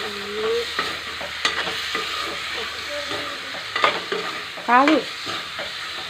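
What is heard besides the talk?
marinated chicken being stirred while frying in pan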